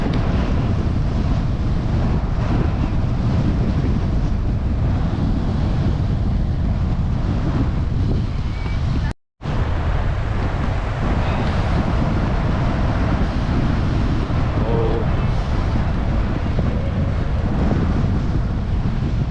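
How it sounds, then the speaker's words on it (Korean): Strong outdoor wind buffets the microphone in a loud, continuous roar with a brief cut near the middle, no voices over it. "바람 무지하게 부네요"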